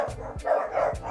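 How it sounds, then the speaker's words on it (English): In-game dogs from FIFA 23 bark in a quick, close cluster of short yaps, with a few sharp thumps mixed in, and no voices. "dogs, dogs, dogs making noise."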